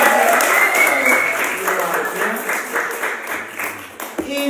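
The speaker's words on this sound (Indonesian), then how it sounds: "Tepuk tangan" A church congregation applauding during a sermon, dense and loud clapping from many hands that fills the space, with voices mixed in and a gradual fade toward the end.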